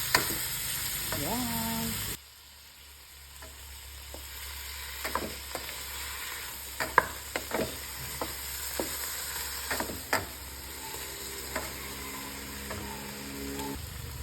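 Vegetables sizzle in a hot pan, with steady frying hiss and repeated scraping clicks of a spatula as it is stirred. A brief spoken word sits under the cooking noise.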